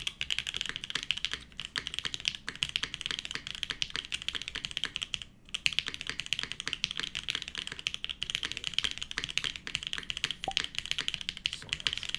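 Keys clack steadily on a mechanical keyboard with an FR4 plate, a close, continuous stream of crisp taps at an even typing pace with only a brief pause, no talking.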